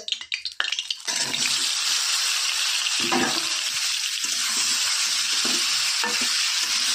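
Mango pickle stirred and lightly fried in oil, a steady close sizzle with scraping stir strokes throughout, after a brief clatter at the start.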